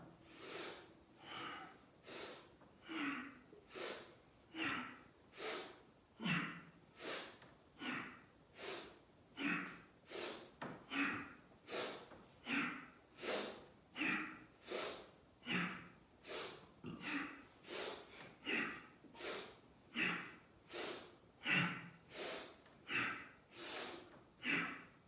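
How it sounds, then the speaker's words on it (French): A long series of forceful, quick breaths in and out through the nose during a vitality breathing exercise, about two dozen sharp rhythmic pulses at a steady brisk pace, close up, with nothing else over them. "On inspire et on expire par le nez de plus en plus puissamment."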